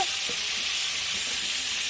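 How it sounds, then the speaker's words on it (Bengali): Potatoes fry in a pan for a cooking spread, a steady bright sizzle with occasional soft stirring scrapes, close and continuous with no talking. "বর্তমানে আলু ভাজা হচ্ছে"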